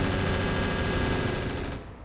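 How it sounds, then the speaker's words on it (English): Sustained, dense gunfire in the mech game RogueTech, a loud continuous roar of rapid shots and blasts that holds steady and then fades out near the end. "they're already shooting at the small military building immediately in round one"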